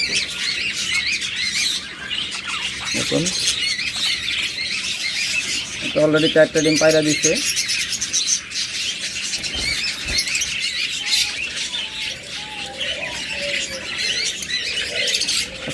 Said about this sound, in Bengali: হিউজ পরিমাণ বাজবিগার পাখি আমাদের কাছে রয়েছে।